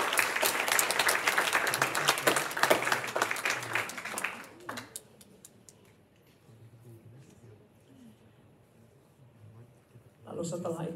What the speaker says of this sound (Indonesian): Boleh gak kasih tepuk tangan yang terbaik buat Tuhan?